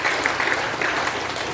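A church congregation claps loudly together, a dense, steady wall of applause for the whole short stretch with no voices standing out.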